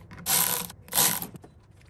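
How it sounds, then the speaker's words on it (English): Two bursts of ratcheting, clicking mechanism as screw-down clamps are tightened onto a coolant hose on a first-generation 4Runner, close and fairly loud, each lasting about half a second. "I'm gonna clamp these two screw down clamps on the inside of the marks"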